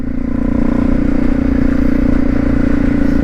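A Honda CRF250 Rally motorcycle rides through snow and slush, its engine a steady, close, rumbling drone with faint scraping and clatter beneath.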